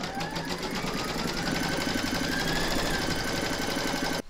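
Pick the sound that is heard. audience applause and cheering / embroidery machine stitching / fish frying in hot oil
embroidery machine stitching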